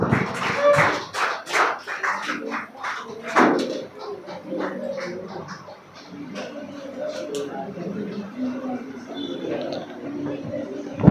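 A school audience at a confidence-building program bursts into loud applause for a second-prize winner, a dense burst of clapping in the first few seconds that thins into scattered claps amid crowd murmur.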